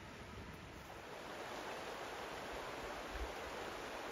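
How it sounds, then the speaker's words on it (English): Rushing water from the falls at Johnston Canyon, a continuous broadband roar that stays even and unbroken, quiet and somewhat distant, with no talking. "The sound of that water is so relaxing."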